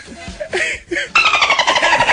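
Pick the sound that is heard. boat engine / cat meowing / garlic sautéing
boat engine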